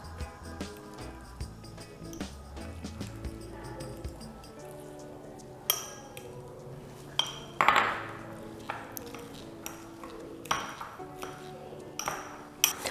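Soft mashing of salted egg yolks in a bowl for Chinese New Year butter cookies, with scattered light clinks and taps of a utensil against the dish at an uneven pace.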